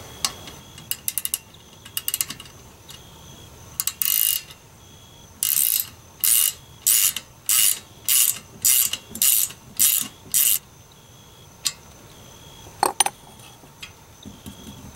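Ratcheting clicks from a nut being tightened down on a saddle platform, in a run of about eight short, evenly spaced bursts with a few scattered clicks before and after, close by and with no talk.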